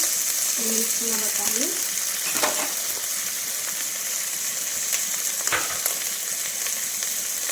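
Bagara rice ingredients being mixed as they fry in a pot, a continuous moderate sizzle with a couple of sharp scraping stirs and a brief voice early on.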